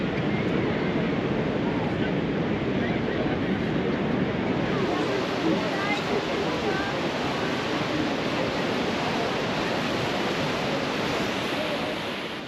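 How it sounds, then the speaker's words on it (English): A loud, steady roar of rushing, crashing water fills the whole stretch, dense and continuous like standing close beside Niagara Falls. "the sound is so loud, the water's just roaring"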